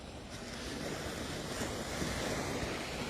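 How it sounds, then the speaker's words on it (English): Ocean waves surging in at Waikiki beach, a steady broadband wash of surf with some wind noise on the microphone, close and continuous with no talk. "watching the waves come in"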